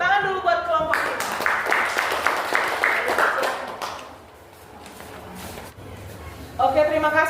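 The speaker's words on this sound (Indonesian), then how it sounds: "Tepuk tangan dulu buat kelompok 5" A classroom of seventh-grade students claps for a presenting group, a dense burst of applause for about three seconds that fades out, with talk before and after it.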